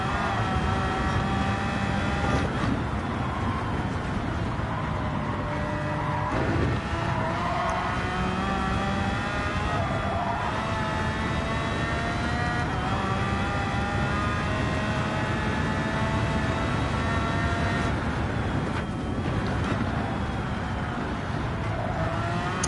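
A Ferrari race car engine drones steadily in Gran Turismo 7, a sustained high whine with shifting pitch and occasional gear changes, loud and continuous throughout.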